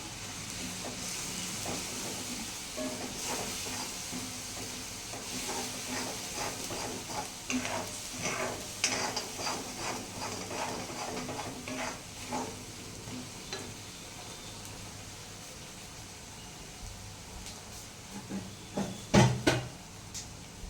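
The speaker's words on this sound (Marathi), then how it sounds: "लसूणची तडका ओरून घालते मी" Garlic tadka going into palak gravy for palak paneer, a sizzling hiss with repeated stirring scrapes and knocks against the pan, moderately close, ending in a couple of sharper clatters.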